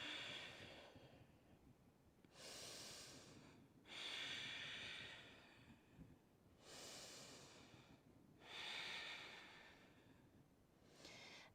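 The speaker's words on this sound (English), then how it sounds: "Breathing here." A person breathes slowly and deeply while holding a yoga standing splits pose, with long, airy inhales and exhales alternating at a steady, unhurried rhythm, close and fairly soft, with no talking.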